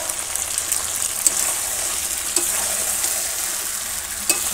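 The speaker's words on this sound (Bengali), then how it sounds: "দেখো কষানো হয়ে গেছে, ভেজে যাচ্ছে। এখন এই আলুগুলো দিয়ে দেবো।" Country chicken curry with potatoes sizzles and fries in a pan over a coal fire in a village kitchen, giving a steady close crackle with a few sharp pops and no voices.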